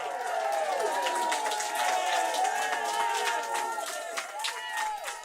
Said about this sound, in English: there is the loud sound of clapping.